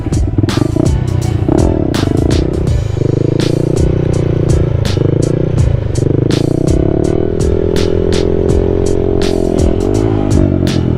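A Honda Grom motorcycle engine revs steadily and loudly up close through a wheelie, its throttle held with small surges and drops, while sharp clicks and clatter tick over the continuous drone.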